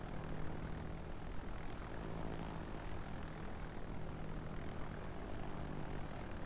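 Aircraft engines of torpedo bombers in World of Warships drone steadily at low volume, a continuous propeller hum with no pauses.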